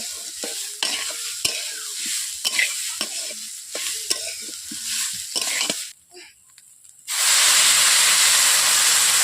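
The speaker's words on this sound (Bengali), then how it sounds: "এরপর আমি জল দিয়ে দিচ্ছি।" Hot bhoger khichuri pot with stirring and scraping, then water poured in bursts into a loud, steady sizzling hiss that fills the last couple of seconds close up.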